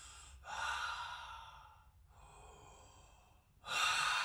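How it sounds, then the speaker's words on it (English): Deep breathing through the mouth: a long audible inhale, a quieter exhale, then another strong breath in, close and breathy with no talking. "Breathing through the mouth quite deep and feeling down into your belly"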